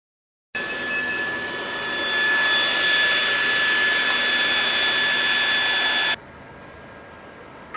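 Mutoh ValueJet 426UF UV flatbed printer running a print job, a steady mechanical whir and hiss that grows louder after a couple of seconds, holds with tonal whine, then drops abruptly to a quieter hum.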